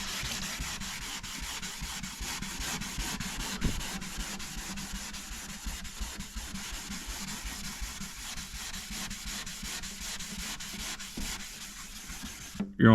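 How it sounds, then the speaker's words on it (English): A Jeep headlight is wet sanded with 1000 grit sandpaper on a sanding block, making a steady, close, rhythmic rubbing hiss in continuous back-and-forth strokes. "So I have a sanding block here."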